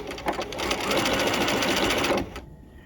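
A sewing machine straight-stitches a narrow rolled hem over pearl cotton at a short stitch length, a close, steady whirring run that builds after a few short bursts and then stops abruptly, with quiet room sound after.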